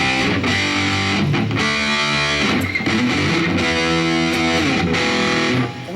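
A distorted electric guitar plays through a Boss eBand JS dialed for a hard rock tone, chugging palm-muted riffs and sustained chords sounding loud and continuous, with no talking.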